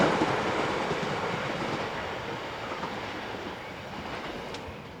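A single diesel class 5047 railcar passes close by, a loud rumbling roar with clattering wheels that slowly fades as it moves away.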